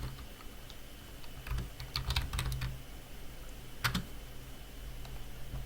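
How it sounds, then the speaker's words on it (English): Keystrokes on a computer keyboard entering a conda install command, sparse clicks in two short bursts over a faint steady background hum, no talking. "You have to type the command conda install scikit-learn"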